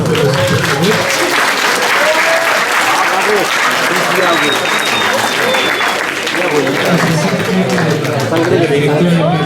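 Sustained applause from a conference audience at a school campus, dense steady clapping filling the whole stretch with murmured voices mixed in.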